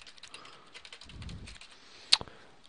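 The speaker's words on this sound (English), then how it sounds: "So I'm just going to type in a password real fast." A password is typed on a computer keyboard: a quick run of light, crisp keystrokes, close by, with a louder key snap near the end and no talk.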